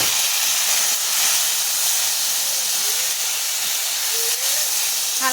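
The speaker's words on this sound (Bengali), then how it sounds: "আমি কচুরলতাগুলোকে ছেড়ে দেব।" Taro stolons (kochur loti) hit a pan of hot oil with browned chopped onion, giving a loud, steady, close hiss of sizzling that holds evenly throughout with no talk.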